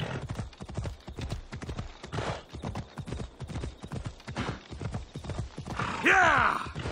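A horse gallops in a fast, regular clip-clop rhythm across rough terrain in the video game Assassin's Creed Odyssey, closing with a brief whinny.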